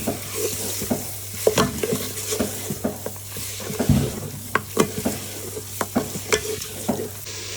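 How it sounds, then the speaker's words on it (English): A spatula stirs frozen garlic and ginger paste around a sizzling pan, giving a steady run of scraping knocks over the constant frying hiss, close by. "Give it a good stir."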